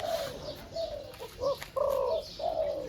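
Pet birds, pigeons or doves being readied for stand training, give a series of soft, close coos in repeated phrases with brief pauses between them and no talking.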